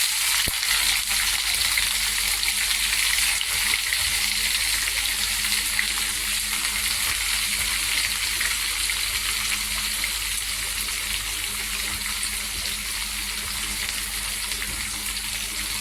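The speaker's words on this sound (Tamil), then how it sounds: "கடுகு பொரிஞ்சதோட இப்போ நான் வெங்காயத்தை போடுறேன்" Sliced onions hit hot oil already crackling with popped mustard seeds, giving a steady, close, even frying sizzle that holds without a break throughout.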